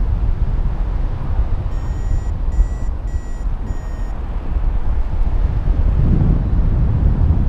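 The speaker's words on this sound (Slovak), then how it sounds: "Fúka perfektne." Strong wind buffets the microphone at the Biela skala mountain launch site, a continuous low rumbling roar throughout. A short series of high electronic beeps sounds in the middle.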